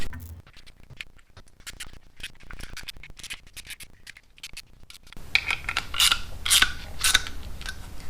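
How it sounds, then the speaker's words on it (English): Bolts being threaded back into a snow blower during maintenance: quiet close metallic clicks, scrapes and rattles in an irregular patter, growing busier and louder with sharper ticks toward the end. "I'm gonna put these bolts back in there."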